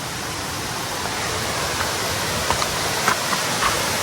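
Junani waterfall near Bargarh pours in a steady, dense roar that stays loud and even throughout, with a few faint clicks surfacing near the end.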